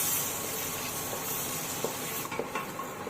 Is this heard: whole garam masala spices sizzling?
yes